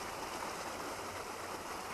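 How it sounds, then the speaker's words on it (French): A small stream with a mini waterfall flows toward a lake on a hiking loop, a steady, faint rushing and babbling of water with no voices. "Regardez le petit ruisseau comme il est magnifique. Juste là. Avec une mini cascade."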